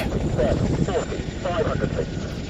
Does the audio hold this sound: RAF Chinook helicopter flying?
yes